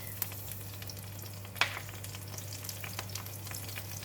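Dry chili and fennel seed frying in about a tablespoon of cooking oil for a cauliflower stir fry, giving a soft, steady sizzle with a single sharp clink partway through, no voices.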